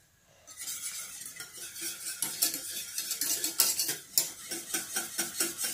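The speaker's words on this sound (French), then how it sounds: "On mélange bien." A utensil stirs a red fruit mixture for a charlotte, off the heat, in a bowl or pan. It makes repeated clinks and scrapes in an uneven rhythm, close and moderately loud, with no talk.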